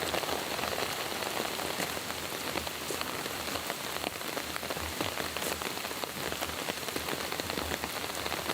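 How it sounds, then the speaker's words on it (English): Steady rain patters on the ground in a dense, even hiss of countless drops. It stays constant throughout, with no other sounds. "rain taps the ground like a secret code"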